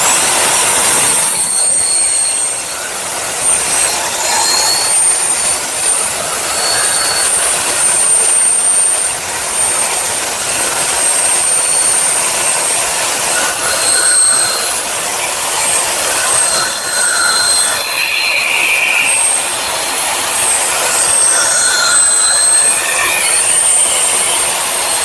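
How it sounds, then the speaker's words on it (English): A reciprocating saw cuts open another Sawzall's housing, giving a loud, continuous harsh buzz that holds steady from start to finish with no pauses. "We're going to cut this bad boy Sawzall or reciprocal saw open with this reciprocal saw"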